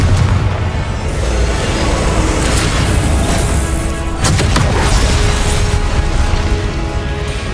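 A Confringo blasting spell in the Hogwarts Legacy video game, heard as a loud, continuous roar of booming explosions and crashing debris. The noise stays dense and heavy throughout, with no talking.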